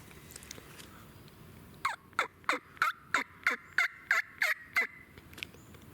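A turkey call in the Maine woods sounds out a close, loud gobble of about eleven rapid, evenly spaced yelps, an imitation of a wild turkey, rising from a quiet background with faint earlier chirps.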